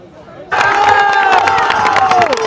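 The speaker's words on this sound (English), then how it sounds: "The crowd's loving it." Spectators cheer loudly at the canoe marathon world championships men's K1 senior race, a sudden roaring crowd with rising shouts and whistles that sustain to the end.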